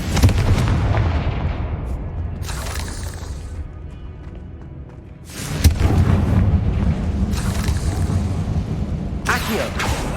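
The Confringo fire spell in the Hogwarts Legacy video game sets off several booming blasts, each with a rushing, crackling tail. Quieter gaps fall between the blasts, and the sound is close and loud.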